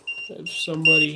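A K2 EMF meter beeping close by, short high electronic tones that sound, stop and return while a voice talks over them.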